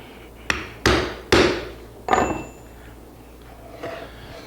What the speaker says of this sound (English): make just a couple punches, and we can see the effect that each one has